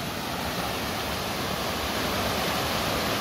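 A waterfall pours inside a cave as a dense, steady, loud rush of water that carries on without a break, with no voices.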